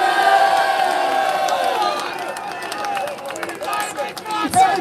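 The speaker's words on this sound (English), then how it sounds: "Another round of applause for David Curtin." A live crowd at a Birmingham stand-up rally claps and cheers loudly and close, with shouting voices and babble mixed into the sustained roar, fading slightly toward the end.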